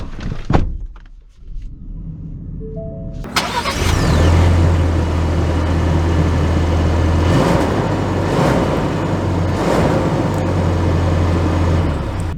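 A 2022 Ford Ranger Lariat Tremor pickup starts up after door and cabin clunks, the engine catching with a rising roar and then a steady idle and drive-off rumble heard from inside, loud and continuous.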